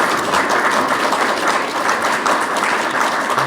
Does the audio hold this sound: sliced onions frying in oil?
no